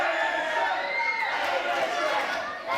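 A wrestling event crowd gives a sustained roar of cheering and shouting that fills the arena at a steady, fairly loud level under a commentator's talk.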